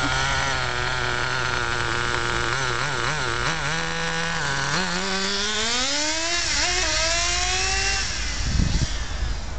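An HPI RS4 Cuda radio-controlled car drives on a track, its small motor whining loudly and rising and falling in pitch as it accelerates and slows, then cutting off near the end.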